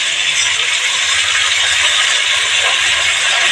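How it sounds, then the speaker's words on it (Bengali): Ginger and radhuni paste sizzling in a hot pan, a steady loud hiss that fills the whole stretch without pause, with no voices over it. "এবার ওর মধ্যে আদা আর রাঁধুনি বাটাটা দিয়ে দেবো।"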